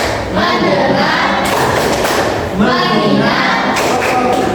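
Classroom participants play an ice-breaking clap game, with a loud, close chorus of voices and several bursts of group hand clapping.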